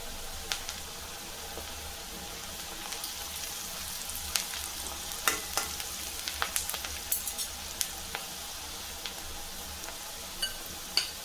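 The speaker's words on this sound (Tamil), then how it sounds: "கொஞ்சம் பொன்னிறமாக வதங்கட்டும்" Sliced onions sauté in a pan with a couple of pinches of turmeric for a taro root fry, giving a steady close sizzle punctuated by scattered crackles and light stirring clicks.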